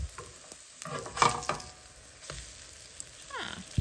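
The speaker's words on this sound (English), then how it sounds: "I'll continue frying them" Quiet sizzle of fritters frying in a pan, with occasional scrapes and soft clinks of a utensil, no voices.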